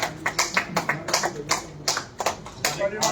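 Audience applause at a Hindi poetry award ceremony, a sparse, uneven burst of claps from a modest crowd with a voice speaking over it.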